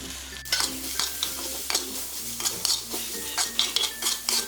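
Sliced onions sautéing in a pan for a crab roast, a soft sizzle broken by repeated scraping and clinking stirs of a utensil against the pan, close with no speech.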